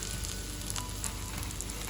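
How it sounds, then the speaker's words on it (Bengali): Potatoes frying with spices in a pan for a Bengali dhokar dalna curry, giving a steady, close sizzle that holds even for two seconds with no voices. "দেখুন আলুটাও মশলার সাথে ভালো করে কষে গেছে।"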